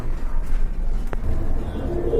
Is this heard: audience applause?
no